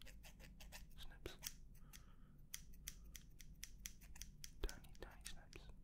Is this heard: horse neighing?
no